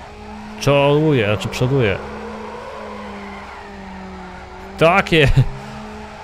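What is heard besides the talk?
car drifting with tire squeal in Need for Speed Underground video game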